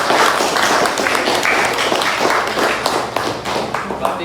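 Students clapping together in a classroom, a loud, dense burst of close hand claps filling the room, steady and unbroken with no voices over it.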